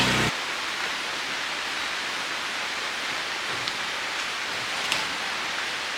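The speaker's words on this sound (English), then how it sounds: "It started raining and I don't think it's gonna stop anytime soon" Steady, dense rain falls continuously, a broad hiss filling the whole stretch with a couple of faint drips or taps standing out.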